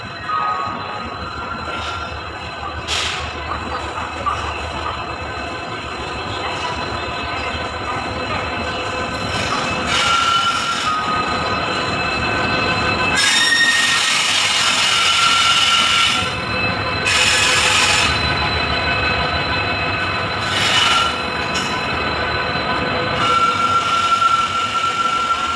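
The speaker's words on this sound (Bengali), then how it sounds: "ট্রেন এসে গেছে আমাদের, ট্রেন ঢুকছে।" A passenger train pulling into a station, a continuous loud rumble with several sharp, high metallic wheel squeals rising and dropping over its slow arrival.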